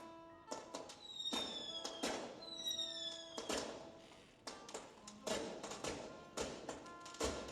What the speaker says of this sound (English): Esteemed guests, please proceed to the balcony and enjoy the fireworks.